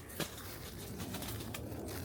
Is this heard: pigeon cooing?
yes